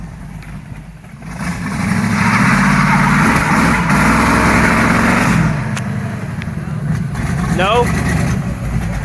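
Chevrolet C10 pickup running with open exhaust cutouts, a loud, close, rough engine rumble that swells, holds steady and sags unevenly as if near stalling, with people talking over it.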